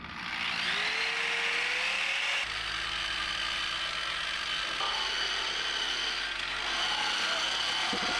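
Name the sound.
power tool with 40 grit stripping drum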